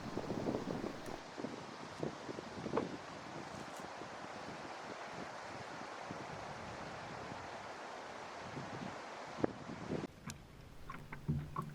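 Canoe paddling through narrow Bad Medicine Lake, rimmed by high rock walls in the Wabakimi wilds, with steady water swishes and strokes under light wind noise, fairly close and continuous.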